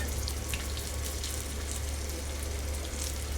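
Peanuts and green chillies fry in a pan for jama kaaya (guava) chutney, giving a steady, even hiss of oil with faint crackles and a low background hum, close and continuous with no talking.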